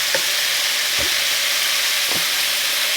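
Mustard paste hits hot oil in a frying pan with a steady, loud sizzle, while a few soft clinks of a spatula stirring break through the hiss.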